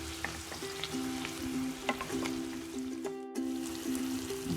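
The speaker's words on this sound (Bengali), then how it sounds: "এটা আরো অনেকক্ষণ ভাজতে হবে আমার, কিছুক্ষণ।" Dal puri deep-frying in hot oil, a close, continuous bubbling sizzle with small crackles and pops throughout and a brief clatter partway through.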